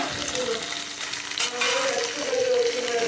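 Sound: fish and tomato frying in a pan

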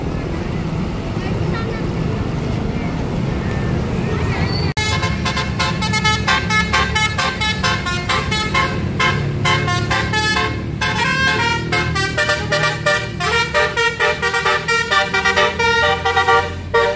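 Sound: Basuri telolet bus horns honking

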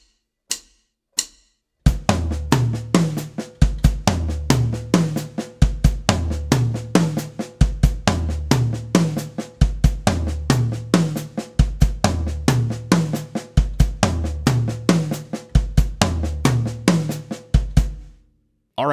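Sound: drum phrase: offset triplet sticking with two ghost notes and a kick

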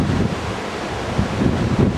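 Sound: sea waves rolling near cave at Pedra Furada

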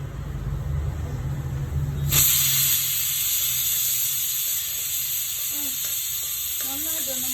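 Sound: urad dal sizzling as it is added to hot oil

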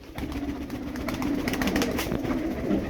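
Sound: bird

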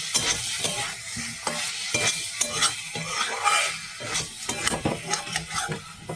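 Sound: stirring mushroom curry in a frying pan

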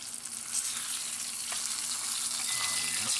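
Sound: fish frying in oil

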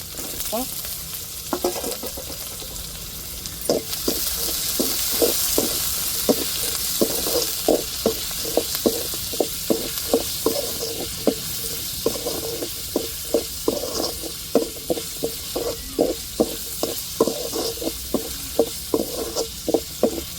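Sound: onions and peppers frying in a pan

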